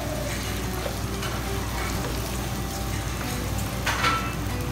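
Onions and bell peppers sauté in a hot pan for dragon chicken, giving a steady, close sizzle with faint scraping at moments, nearly unbroken throughout.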